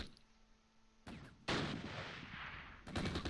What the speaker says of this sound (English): Drop some mortars on that for a minute.